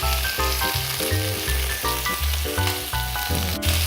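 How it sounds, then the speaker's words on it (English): Thin slices of Berkshire pork sizzling on a grill, a loud close steady crackle and hiss that pulses in quick regular bursts throughout. "I can see the pork here being cooked in front of my eyes."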